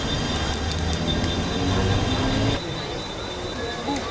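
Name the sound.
Kolhapur train arriving at the station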